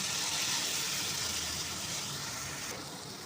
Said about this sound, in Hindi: अब हम इसमें 2 गिलास ये पानी डाल देंगे।